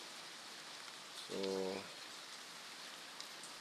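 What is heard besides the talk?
heavy nonstop rain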